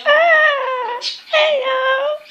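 A human voice mimics a puppy's whimper in two drawn-out, whiny cries, loud and close.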